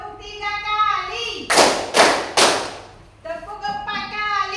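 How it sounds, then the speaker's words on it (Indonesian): Three sharp hand claps in quick, even succession from a group during a counting-clap classroom game, loud and close, with a teacher's voice speaking before and after. "Tepuk 3 kali."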